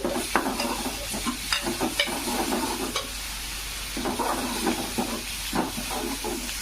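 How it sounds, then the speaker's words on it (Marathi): Masala for mutton curry frying in a pan, with a steady sizzle and hiss under repeated stirring strokes scraping through the spices, close and fairly loud, no talk. "छान असं फ्राय करून घ्यायचं."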